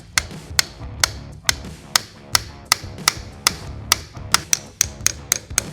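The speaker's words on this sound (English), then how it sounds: "we're going to take our punch and we're just going to tap it out" A hammer strikes a punch to drive a pin out of a GM 10379038 pedal assembly, a steady series of sharp metallic taps about twice per second, close and loud, with no voices.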